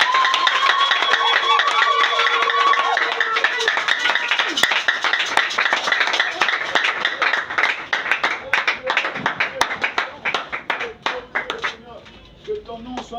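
A church congregation claps together in praise of the Lord, a dense wash of handclaps under voices that thins toward the end into separate, sharper claps.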